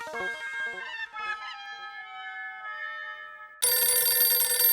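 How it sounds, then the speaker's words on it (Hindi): A telephone bell rings in a shop scene from the Hindi TV sitcom Taarak Mehta Ka Ooltah Chashmah, a loud, dense ringing that starts abruptly after soft background music. "तो मैं अब भी फोन करके बावरी जी को दुकान में बुला लेता हूँ"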